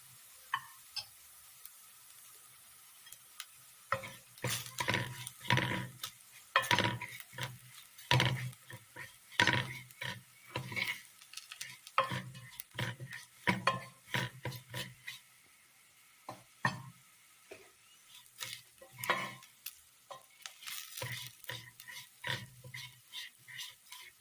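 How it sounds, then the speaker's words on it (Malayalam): Chili, coriander, turmeric and meat masala powders frying with onions in a pan, heard as repeated close scraping and stirring strokes in irregular bursts over a quiet background. "പൊടികളെല്ലാം നല്ലതുപോലെ ഫ്രൈ ആയി വന്നിട്ടുണ്ട്"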